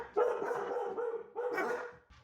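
Dogs bark in two close, loud bursts, each a run of quick overlapping barks with a brief lull between, heard without any talking.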